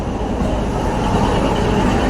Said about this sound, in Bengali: চলে এসেছে আমাদের প্রতীক্ষিত ট্রেন